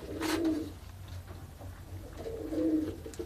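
Old Dutch Capuchine pigeons give two low, rolling coos, one early and one near the end, close and clear over a quiet background.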